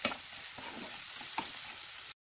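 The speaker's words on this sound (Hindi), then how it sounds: "जब तक ये गुड़ मेल्ट नहीं हो जाता है और इसमें ये बढ़िया से फ्राई नहीं हो जाता है तब तक इसको हम पकाएंगे।" A jaggery and chana dal filling for puran poli frying in a pan, a brief close sizzle with a few stirring scrapes and no talking.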